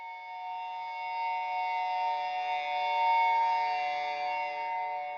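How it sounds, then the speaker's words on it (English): Sustained, droning guitar feedback tones from amp simulators ringing together, steady and bright, slowly swelling in loudness with no voices. "And I recorded these two different feedback tones,"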